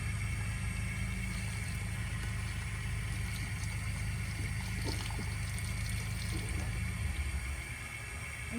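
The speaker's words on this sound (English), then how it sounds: "it's a freshwater tank drain" Water drains steadily from a travel trailer's freshwater tank, a continuous near rushing pour heard alone without speech, which drops slightly in level near the end.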